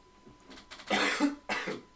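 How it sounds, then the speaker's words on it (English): A few harsh coughs, close and loud, in two bursts with a short pause between them. "that's the coughing going again."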